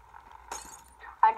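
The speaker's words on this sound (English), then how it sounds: "I just, like, broke all the glass bottles." Glass bottles shatter in the video game Happy Wheels, a sharp crash followed by a second smaller break, with a player talking over the noise.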